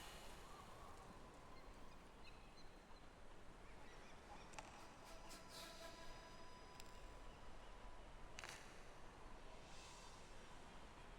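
Birds honk in a video game, with a few short calls rising over steady noisy ambience around the middle and toward the end, fairly faint, with no talk.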